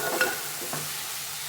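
Garam masala and biryani masala are sautéed in a pan over a medium flame, with a soft even sizzle and a couple of light stirring scrapes early on.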